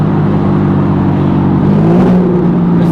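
A single-turbo BMW 335i with a hood-exit exhaust drones loudly and steadily from close by, its low engine tone rising slightly in pitch near the end as it accelerates.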